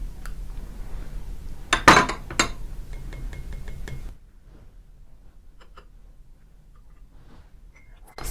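A spoon stirs a homemade immune booster drink of ginger and garlic, giving a few quiet clinks and taps against the glass, then near silence.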